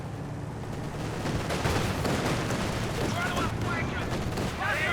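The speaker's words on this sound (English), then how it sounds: "And that just allows more LMG fire on them." Continuous rattling LMG machine-gun fire mixed with other gunfire and explosions in the Company of Heroes 2 video game, a steady dense battle din under a commentator's voice.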